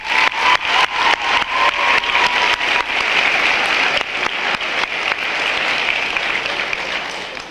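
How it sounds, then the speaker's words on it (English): A crowd at a high school senior day for the class of 1997 gives a round of applause. Sharp, rhythmic claps at the start swell into a dense, sustained ovation that slowly fades. "join me in a round of applause for the class of 1997"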